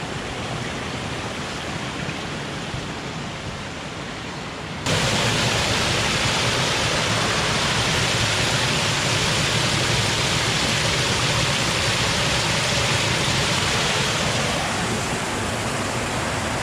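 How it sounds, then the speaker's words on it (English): A Himalayan mountain stream rushes in a loud, constant roar of broadband water noise, growing noticeably louder and closer partway through as a bottle is dipped to fill, with no voices. "I think I'm going to try and fill up my bottle here. It must be clean, surely. It comes from the mountains."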